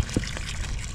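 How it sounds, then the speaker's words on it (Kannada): Water runs steadily from a water line near a park area, flowing on its own without a motor, a continuous close rushing trickle with no talk. "ಜಸ್ಟ್ ಹಿಂಗೆ ಎಷ್ಟೋ ನೀರು ಬರ್ತಾ ಇದೆ ನೋಡಿ ಇಲ್ಲಿ"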